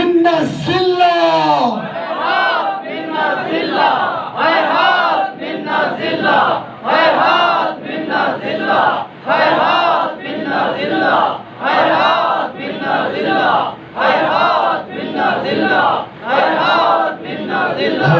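Large crowd at a Muharram (Ashura, 10 Muharram) gathering in Basti Chadrar, Pakistan, chanting the slogan Hayhat min al-dhilla in loud, rhythmic unison bursts, about a dozen repeated phrases after a leader's opening call.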